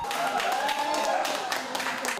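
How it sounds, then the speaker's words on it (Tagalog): Fans at a sports bar watch party in Pasig cheer and clap as a player scores, with a lively crowd roar and scattered clapping under a sustained voice, mixed with broadcast audio. "Walang tigil sa hiyawan at palakpakan ang fans sa tuwing makakapunto si Ayala."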